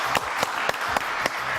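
Studio audience applause on a French TV show, a dense steady patter of clapping with a few sharper accented claps standing out, fairly close and continuous throughout.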